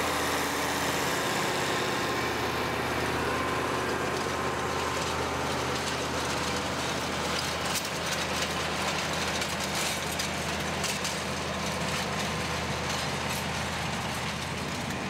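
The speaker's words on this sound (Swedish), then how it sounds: "kör han en 1982 års modell av Acremaster 403 som drivs av en 310 hästars V10 från Mercedes" A 1982 Acremaster 403 tractor with a 310-horsepower Mercedes V10 engine idles steadily, a deep continuous rumble heard up close for the whole stretch with no talking.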